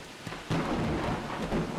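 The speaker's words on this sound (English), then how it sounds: "It's thunder and lightning as well." Thunder rolling through a video game storm, a deep sustained rumble that swells abruptly and carries on under steady rain, with no voices.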